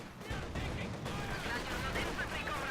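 In the Company of Heroes 2 strategy game, a Raketenwerfer anti-tank gun fires at a Soviet T-70 tank amid a dense, continuous rumble of battle gunfire and artillery, steady and loud throughout, with no clear single shot.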